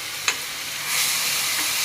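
Chopped onions sizzle and fry in hot oil, a steady hiss broken by a brief clink of stirring, then the sizzle swells a little louder.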